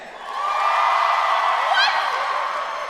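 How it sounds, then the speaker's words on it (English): Comedy show audience cheering and whooping, a broad sustained roar rising in the first half second and holding steady with a few sharp whoops near the end. "Cheer if you think that's okay."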